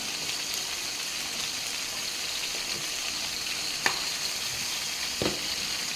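Ginger garlic paste and whole spices, shahi jeera, cardamom and cloves, fry in oil in a pan for capsicum masala curry, a steady close sizzle with a couple of sharp spatula taps and no talking.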